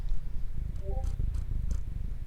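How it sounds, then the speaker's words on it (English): A cat purrs close by in a continuous low rumbling flutter, steady throughout with a few faint soft sounds above it. "I don't think you guys are aware that I have a cat or two."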